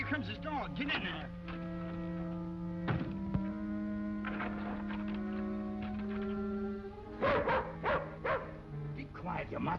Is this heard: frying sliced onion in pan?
no